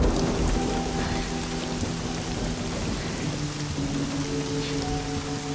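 Continuous rain pours down, a dense steady hiss with a low rumble underneath, no voices.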